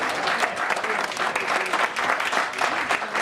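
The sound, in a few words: audience applauding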